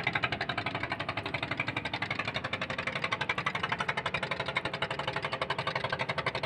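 A motor boat engine (bhotbhoti) chugs in a steady, fast, even rhythm, loud and close, running without a break.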